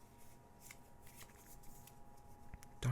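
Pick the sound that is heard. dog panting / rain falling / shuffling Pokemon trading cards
shuffling Pokemon trading cards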